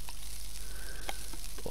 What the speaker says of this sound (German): jetzt kommt das Ganze ab in die Pfanne. Da wird auch der Aal in der Pfanne verrückt.